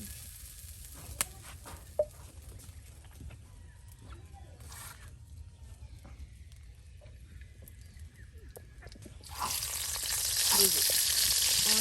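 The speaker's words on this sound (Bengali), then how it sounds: "রসুন, তার সাথে কালো জিরা, মেথি সবকিছু দিয়ে কিন্তু এখন বাগার দেওয়া হবে" Garlic, black cumin and fenugreek fry in hot oil as a tempering, a steady close sizzle with faint clucking chickens in the background and a louder hiss surging near the end.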